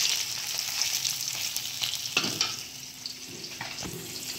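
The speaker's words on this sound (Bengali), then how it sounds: "এই দেখো, মানে মাছ ভাজছি।" Fish sizzles in a pan of hot oil at home, a steady close crackle with occasional sharper spits and stirring scrapes, no talking.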